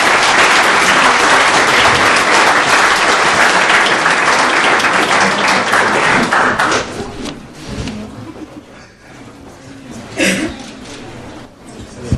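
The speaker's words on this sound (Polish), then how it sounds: "Ogromne brawa dla Arka" Loud audience applause at a karting season awards ceremony, sustained clapping for about seven seconds before fading into scattered claps and room noise.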